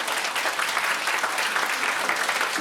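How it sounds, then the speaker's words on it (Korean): Guests at a Korean traditional wedding ceremony applaud the bride and groom, a steady, dense crowd clapping that holds evenly throughout with no talk. "우리 신랑과 신부에게 축하의 큰 박수 보내주시면 됩니다"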